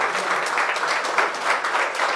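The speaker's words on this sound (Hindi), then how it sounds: "एक बार केदार कश्यप जी के लिए जोरदार ताली बजाइए" Applause from a studio audience for guest Kedar Kashyap on a Chhattisgarh newsroom program, a steady, dense wash of clapping that holds evenly through the whole stretch at moderate loudness.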